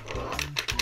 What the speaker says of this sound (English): Trigger. Hear that clicking?